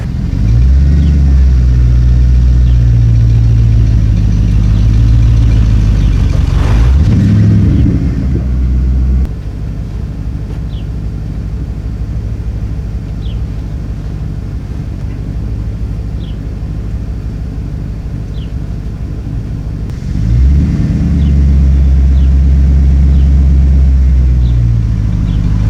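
A 2010 Ford F-350 Super Duty pickup's engine rumbles loudly and steadily, revving up briefly around the middle and again near the end as the truck pushes against a tire, with a quieter idle between.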